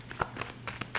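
Tarot cards being shuffled and drawn at close range, a series of quick soft riffles and flicks, fairly quiet, with no talking.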